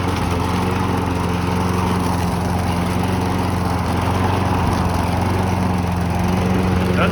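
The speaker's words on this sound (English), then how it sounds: "I better start mowing snow now" An old abandoned lawn mower engine runs steadily and loud close by, pushed through snow, with a constant low drone and a buzzing hum that holds from start to finish without a break.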